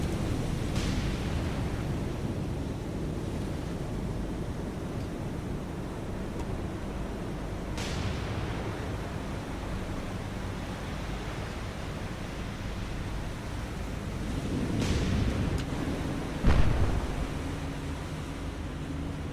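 Naval guns fire in the War on the Sea video game, set during the Battle of Western Solomons against the Tokyo Express. Deep rumbling booms roll over a constant ocean-like roar, with a few sharp reports and a heavier impact near the end.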